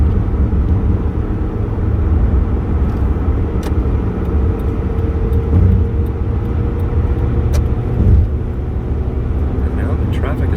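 Steady car traffic hums along the Las Vegas interstate, a continuous low road and engine drone heard from inside a moving vehicle, with someone talking over it throughout.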